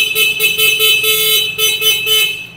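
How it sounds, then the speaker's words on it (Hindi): Horn of a new 2025 Honda CD 70 motorcycle being tested, a series of loud, close, shrill beeps in short bursts with brief gaps. "उसके बाद हॉर्न हमने चेक कर लेना है।"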